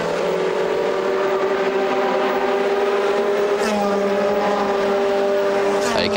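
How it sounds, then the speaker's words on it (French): GT race cars at speed on the Monza circuit, a dense, continuous engine roar from several cars running close together, with a commentator talking over it. "Avec 4 voitures de front à la poursuite de Juan Ramon Zapata"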